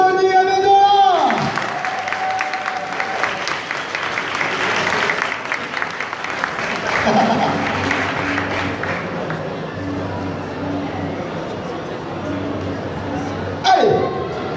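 Loud, sustained applause and cheering from a live convention audience at a game show conference in Montpellier as a guest is introduced, with a host's voice over the crowd near the start and a brief swell at the end.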